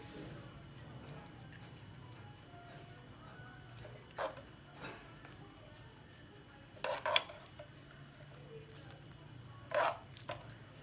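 Bread halwa spooned from a pan into a bowl, a few scattered clinks and scrapes of the spoon against metal and the bowl rim, light and close, over a quiet kitchen background.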